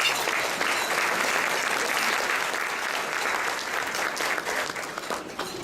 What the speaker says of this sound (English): That'll be all the applause Frank needs the entire evening.